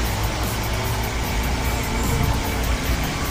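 Car engine in the racing video game Forza Horizon 2, a loud, constant, dense engine drone and road rumble that holds steady throughout with no clear shifts, and no voices over it.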